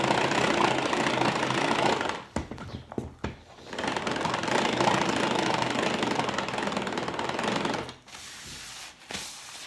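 Electric mixer whirring steadily at low speed 1 while emulsifying mayonnaise or aïoli, a dense continuous buzz that cuts out briefly midway and stops near the end.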